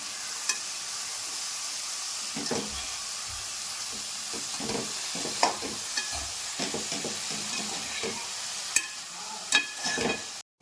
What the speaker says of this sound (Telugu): సన్నగంట ఆకు కూడా వేసుకున్నాం కొద్దిగా సాల్ట్ వేసుకున్నాం ఒకసారి అంతా కలుపుకోవాలి